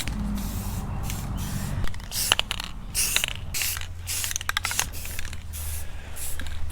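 Bursts of an aerosol spray can hiss in short, repeated passes while a trailer rack gets its coat of paint, with a lower mechanical rumble underneath and no one speaking.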